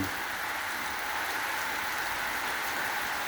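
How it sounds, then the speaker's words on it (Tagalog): Heavy rain pours down steadily, a dense unbroken hiss of drops hitting surfaces with no pauses and no voices. "Tuloy-tuloy na oras ng pag-ulan"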